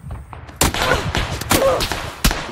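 Gunfire in the battle royale game PUBG: three sharp, loud shot bursts spaced about a second apart, each with a lingering tail over low background noise.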